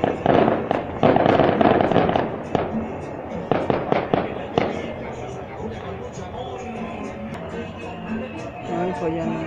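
Castillo fireworks bombs burst at a town festival in San Miguel Ameyalco in a fast, loud volley of bangs, then thin into scattered pops and crackling while people talk nearby.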